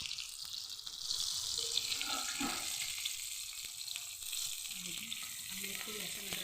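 Liver sizzles and fries in garlic ginger paste on a tawa, a steady bright hiss close up with occasional stirring scrapes and no talking.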